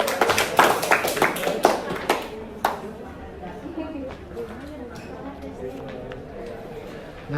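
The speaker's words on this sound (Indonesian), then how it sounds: "tepuk tangan dulu." An audience claps for a student group after their presentation, a brief burst of close clapping in the first few seconds that fades out, followed by chatter and movement in the room.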